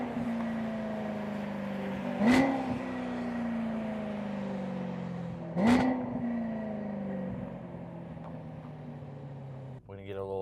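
A BMW E90 M3 engine blips through two downshifts, each a sharp rev spike rising over a steady, droning cabin engine note, with a brief rattle at the end.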